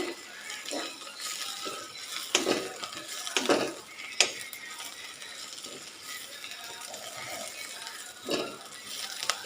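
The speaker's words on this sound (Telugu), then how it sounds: "మళ్ళీ ఈ బాండీలోనే తాలింపు వేసుకుంటాం కదా" A talimpu tempering frying in a wok over high heat, giving a steady crackling hiss broken by irregular scraping clicks and clatters of stirring, fairly close.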